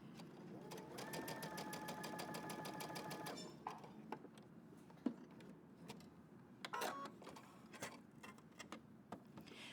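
Sewing machine running a long 4.0-length stitch, a fast steady mechanical ticking for a few seconds, then stopping, followed by faint handling clicks and rustles.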